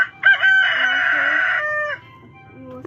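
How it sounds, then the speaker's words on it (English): A cartoon rooster crows once, loud and close, a stretched cock-a-doodle-doo after a short cluck, ending in a brief quiet gap. "Rooster."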